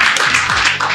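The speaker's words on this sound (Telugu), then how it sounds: "అందరం గట్టిగా చప్పట్లు కొడదాము." A church congregation claps loudly in unison, a dense bright patter of many hands close by, filling the short moment without pause.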